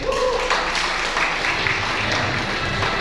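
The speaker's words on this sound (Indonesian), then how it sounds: "tepuk tangan buat PTBS" Applause from a seated audience at a seminar, moderately loud and continuous for a few seconds, with faint voices mixed into the dense clapping.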